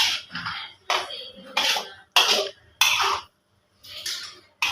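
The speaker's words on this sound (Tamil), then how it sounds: "நல்லா கிண்டி விட்டுக்கலாம்." Malaysian-style Maggi goreng noodles stirred in a pan, with a run of scraping, clattering utensil strokes against the metal in bursts, close and fairly loud, separated by short pauses.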